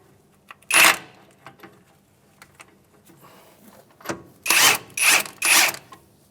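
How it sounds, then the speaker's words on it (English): Strut-to-knuckle bolts come off a 2007-2013 Acura MDX, with one loud burst of a power tool followed by three more close bursts in quick succession, with quieter clicks between. "we can remove these two bolts holding the strut to the knuckle"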